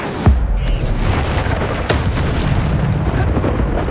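Hogwarts Legacy's Incendio fire spell is cast in game, a heavy whooshing boom that bursts at the start and again midway, with a roaring, rumbling fiery texture holding between the blasts.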